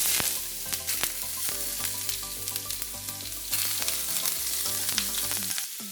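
Chopped white onion frying in olive oil in a stir-fry pan, a steady close sizzle with scattered crackles and stirring scrapes throughout, no voices.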